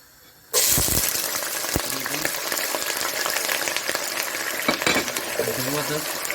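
Onions drop into hot oil in a pan and start a sudden loud, close sizzle that keeps going steadily, with occasional utensil scrapes and stirring on top.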